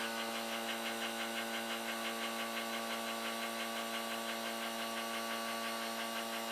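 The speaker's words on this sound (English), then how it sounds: "Vibrate the investment and get the air out of it." A vibrating table shakes an investment casting mold in a home foundry setup to drive air out, giving a constant mechanical buzz with a steady pulsing rattle close by and no speech.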